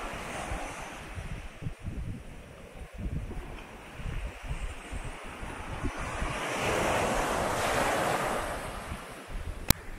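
Surf washes steadily onto a beach in a light breeze, with broad, continuous hiss and rushing swells that build toward the end, mixed with soft wind buffeting on the microphone and no voices.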